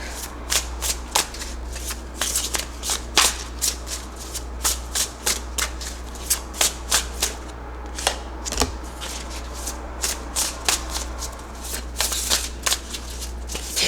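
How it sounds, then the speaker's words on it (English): A deck of tarot cards is shuffled by hand in a long run of crisp riffling and slapping bursts over a constant low hum, with no talking. "I'm shuffling right on top of it."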